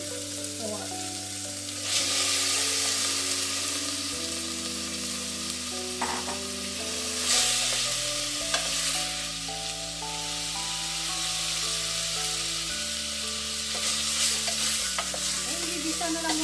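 Pork frying with tomato in a pot for arroz valenciana, a steady close sizzle with occasional stirring scrapes, under louder background music and no voice.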